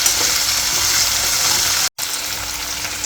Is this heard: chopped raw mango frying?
yes